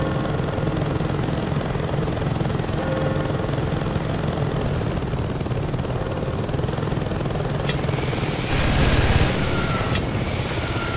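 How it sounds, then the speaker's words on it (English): A helicopter in the Saints Row 2 video game drones with a loud, steady rotor thrum throughout, joined near the end by a short burst of heavier mechanical noise. "You take a helicopter and blow those things up"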